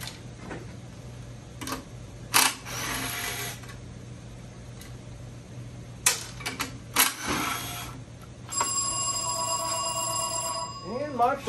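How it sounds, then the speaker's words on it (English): A phone rings in a garage during the teardown of a Honda CT70K0 minibike, with bursts of electronic ringing, scattered clicks and taps, and a sustained tonal ring toward the end. "My phone is ringing."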